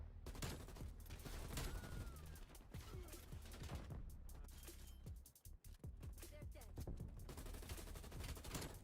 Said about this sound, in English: I'm going ham with this shotgun.